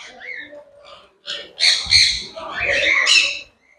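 Exotic birds in a bird park aviary give a burst of loud, close squawks and harsh calls in quick succession, with brief gaps between them.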